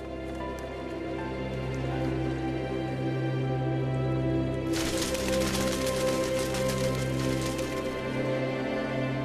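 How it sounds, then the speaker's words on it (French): Torrential rain in the South American savanna at the close of the dry season bursts in about halfway through, a dense, steady hiss of downpour laid over a sustained musical bed. "les premières gouttes d'eau se transforment vite en pluie torrentielle."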